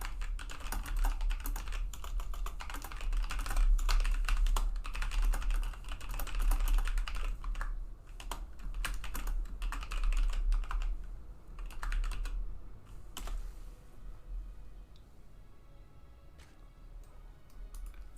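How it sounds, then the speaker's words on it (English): Rapid keyboard typing during a StarCraft esports stream broadcast, a steady run of dense clicking over a low background hum that thins out toward the end. "I'll actually type that in chat."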